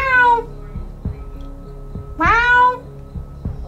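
A kitten trapped at the bottom of a 43-foot water well cries out in two loud, drawn-out meows with quieter knocks and echoey background noise between them.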